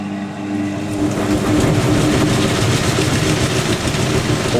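A Zanussi Jetsystem Excel 1250 top-loading washing machine spins at 450 RPM, a loud, steady mechanical drone that swells slightly as it gets going and then holds a rumbling, whirring hum with no voices.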